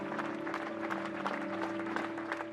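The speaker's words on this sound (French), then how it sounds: "la marche blanche en hommage à Christine Renon s'est achevée dans une salve d'applaudissements" Applause from a crowd at the end of a white memorial march outside a school, a steady patter of clapping heard at a moderate distance under a faint steady hum.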